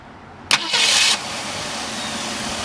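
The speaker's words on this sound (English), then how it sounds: "So we're gonna go ahead and start this up." A rebuilt 289 V8 in a 1964.5 Ford Mustang convertible cranks briefly and catches, settling into a steady, quiet idle that carries on alone to the end.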